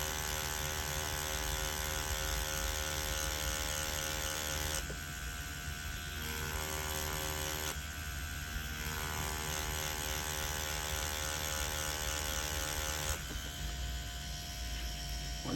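Tattoo machine buzzing continuously during a realistic pet portrait tattoo, a close, steady electric hum with slight shifts in pitch as the needle works the skin.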